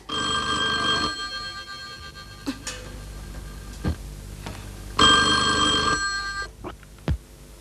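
A telephone bell rings in two long bursts separated by a pause, with a few clicks and knocks in between, in a 1990s Pakistani TV drama.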